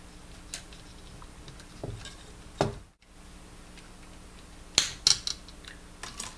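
Wire cutters snip through small electrical wires while building a 5-volt power distribution board, a few sharp, isolated clicks spaced across quiet background hiss, close by with no talking.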